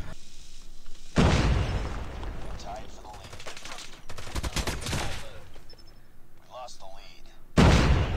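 A grenade blows up in a first-person shooter, with bursts of heavy gunfire and booming blasts coming in loud waves and a final sharp explosion near the end. A person talks between the shots.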